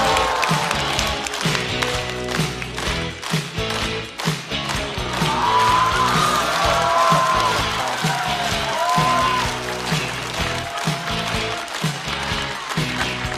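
A studio audience at a Chinese stand-up comedy show claps and cheers to welcome comedian Xiaoyu onstage, a loud sustained wave of applause with music running underneath for over ten seconds.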